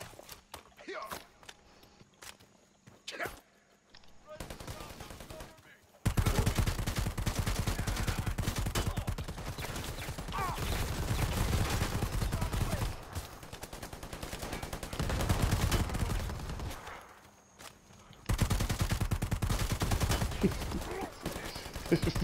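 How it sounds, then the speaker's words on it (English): Gunfire in the video game Predator: Hunting Grounds: a few sparse shots at first, then long loud sustained bursts of rapid automatic fire with brief pauses between, while a voice speaks intermittently. "I'm not even gonna try to parry him. I'm just gonna shoot him."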